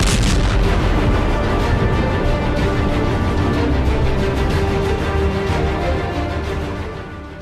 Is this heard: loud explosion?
yes